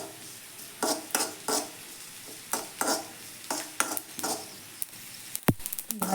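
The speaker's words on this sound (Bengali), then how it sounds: "এখানে কড়াই গরম করে নিয়েছি, একটু ভাজা মশলা রেডি করে নিচ্ছি।" Whole fennel and cumin seeds dry-roasting in a hot wok, stirred in regular scraping strokes with a light crackle underneath, close and moderately quiet, ending in a quick cluster of clinks.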